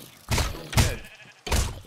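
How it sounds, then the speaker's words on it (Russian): Sheep bleating in Minecraft, three short loud bleats in quick succession, close and clear, with a few soft thuds between. "Овца под замес попала"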